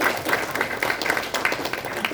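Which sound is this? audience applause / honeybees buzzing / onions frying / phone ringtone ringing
audience applause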